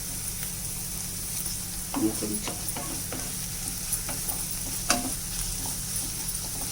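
Ivy gourd and carrot fry stirred in a pan, steady soft sizzling with scattered scraping clicks of a spoon against the pan, close and moderately quiet.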